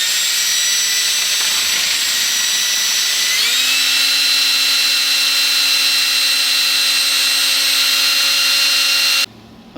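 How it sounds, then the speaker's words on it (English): Power drill boring a pilot hole into an interior trim panel of a Ford Crown Victoria, a steady loud whine that rises in pitch partway through and runs continuously for about nine seconds before cutting off abruptly. "I'm going to do a pilot hole here."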